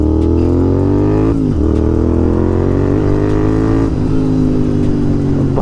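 Close and loud, a Royal Enfield Continental GT650 with twin Red Rooster exhausts pulls hard on the road, its deep throbbing note climbing steadily, breaking at gear changes, then rising again through each gear.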